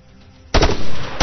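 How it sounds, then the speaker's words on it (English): Rifle gunfire in the Arma 3 military video game: a sharp burst of two close shots followed by a lingering rolling echo, then another single loud shot near the end. "Lacey, fire at that soldier"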